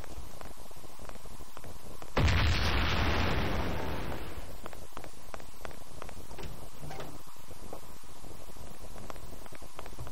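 A grenade goes off in Mafia: The City of Lost Heaven as one loud, broad blast lasting about two seconds, then fading into quieter ticking and faint background game noise, with no talk.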